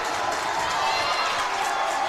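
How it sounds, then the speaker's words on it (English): Loud crowd cheering at a high school boys' ice hockey playoff game between Fairfield Prep and Greenwich: a steady, dense roar of voices that fills the whole arena without pause. "crowd's loud once again"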